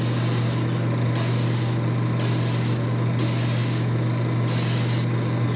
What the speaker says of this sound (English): We're going to spray about 3/4 of the way down the bait at an angle like this.